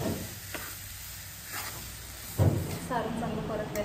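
Jaggery and coconut modak filling being stirred and sautéed in a pan, a soft close sizzle with a few scraping strokes and one louder clatter near the end.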